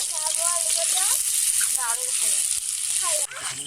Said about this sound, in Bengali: দেখো এখন হচ্ছে আমি পেঁয়াজটাকে ভাজি,